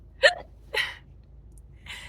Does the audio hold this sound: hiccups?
yes